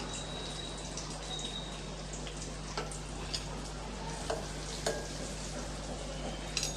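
Curry leaves and asafoetida sizzle in hot oil in a pan, a close, continuous crackling fry dotted with occasional sharper pops and no talking.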